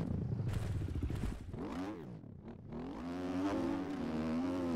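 A dirt bike engine in the MX Bikes motocross racing game screams through the gears, pitch climbing and dropping with each shift, then revving hard and sustained near the end.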